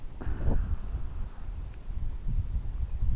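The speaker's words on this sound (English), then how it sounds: "And yes, it's windy today." Low, rumbling gusts of wind buffet the microphone close up, a continuous blustery roar with no one talking.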